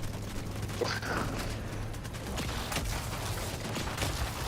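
Turrets firing in a video game, a steady dense rattle of gunfire running throughout under game noise, with a voice briefly audible early on.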